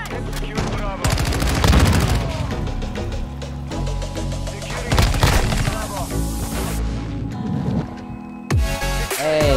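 Gunfire in a first-person shooter game, rapid bursts of automatic fire mixed with single shots and clattering effects, loud and close, pausing and resuming, with a player's voice talking over it.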